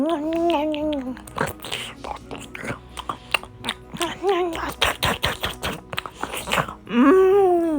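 A child eats chocolate chip pancakes at home, with close, irregular smacking and chewing bursts and small taps that run beneath a high, animated voice talking and squealing throughout.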